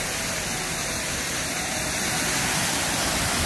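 Waterfall in a headwater forest in southern Laos, its steady broadband rush of falling water filling the whole clip at an even, fairly loud level with no voices.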